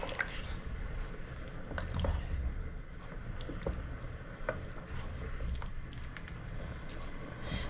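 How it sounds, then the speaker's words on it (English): A pot of Dublin coddle with potatoes simmering on the stove, a low continuous bubbling rumble with scattered small pops and drips, close and steady. "Let it keep on simmering."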